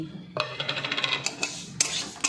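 Rice and mung dal stirred in a pot with a spoon, a run of quick metallic scrapes and clinks against the pot, close and fairly soft, with no one talking.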